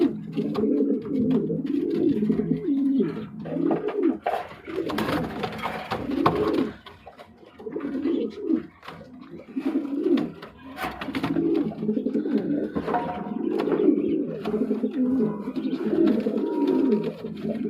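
Pigeons kept in pairs for sale coo continuously in close, rolling repeated phrases, with a few brief gaps and no talking.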